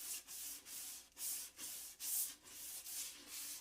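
Wood is hand-sanded with sandpaper, as a finishing step before outdoor urethane, in steady rhythmic back-and-forth strokes. Each soft, close rasp is separated by a brief pause, with no voices.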